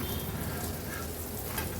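Eggplant (brinjal) slices frying in oil on a tava, a dense continuous close sizzle with fine crackling throughout, no talking.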